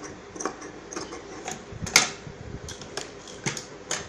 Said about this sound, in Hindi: जो ये एक्स्ट्रा कपड़ा ज़्यादा है इसे हम इतना इतना थोड़ा थोड़ा कट करेंगे